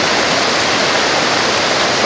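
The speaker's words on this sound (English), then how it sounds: "This is the Nantahala River" Loud, constant rush of the Nantahala River beside a Forest Service road, a dense unbroken roar of flowing water with no pauses, heard up close and alone.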